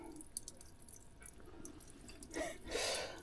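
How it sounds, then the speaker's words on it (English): Water trickles and drips steadily from a boat engine's raw water impeller housing, then a louder splashing gush of liquid pours out near the end, close by with no talking. "should have anticipated a bit more water coming out of there"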